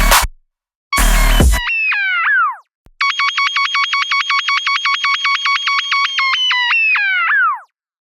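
A sci-fi dubstep synth pulses in rapid on-off bursts like Morse code, a bright tonal pattern that sweeps and evolves. It rings loud and alone after a short noisy burst.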